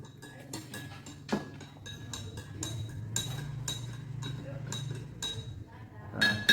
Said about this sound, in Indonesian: Kemudian aduk sampai larut.